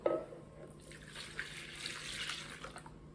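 Warm milk pours into a bowl in a home kitchen while bread dough is made, a steady liquid splash and trickle running for a few seconds after a brief louder start, with no talking.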